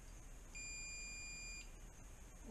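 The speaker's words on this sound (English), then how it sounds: "I have my ohm meter set to beep if it conducts electricity" An ohmmeter set to continuity mode gives a single clean, steady electronic beep lasting about a second as it tests a metal spoon. The room is otherwise quiet.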